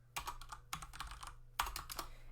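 Quick bursts of keystrokes on a computer keyboard while coding an Angular notes app, three clustered runs of clicky taps, close and clear with no talking.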